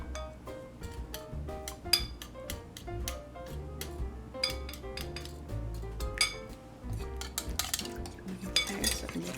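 Stollen dough ingredients with honey are mixed in a bowl, rendered as rapid, irregular clinks and taps of a utensil against the bowl, fairly close and continuous with no talking.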